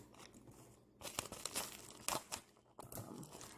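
Scissors snip and tear through crinkly frozen pizza plastic wrapping, quiet bursts of crackling and crunching in an irregular rhythm, close by.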